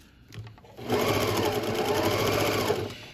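A sewing machine stitching a fabric face mask with an origami nose pleat whirs up after a short start and runs at high, steady speed, close and loud, alone without talk.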